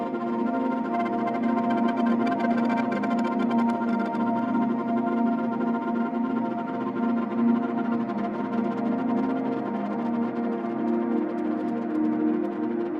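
Beam delay plugin by Lunacy Audio gives a shimmering, pitch-shifted texture like Soundtoys Crystallizer, as a dense, steady wash of sustained tones with a grainy, flickering top, alone and moderately loud.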